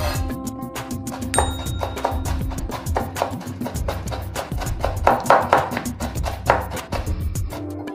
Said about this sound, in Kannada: ಈ ಕರಿಬೇವಿನ ಸೊಪ್ಪನ್ನು ಸಹ ಚೆನ್ನಾಗಿ ಫೈನಾಗಿ ಕಟ್ ಮಾಡ್ಕೊಳ್ಳೋಣ